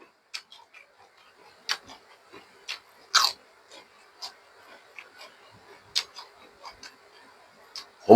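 Crisp crunching bites while eating spicy Thai food, fish roe and beef with hot chili, a mukbang meal; sharp crunches come close and loud every second or so, with quiet chewing between and no talk.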